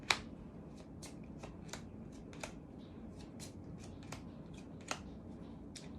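Tarot cards are shuffled in quick, crisp riffles, with a series of sharp flicks and snaps at irregular intervals. The sound is close and fairly quiet, and no one speaks.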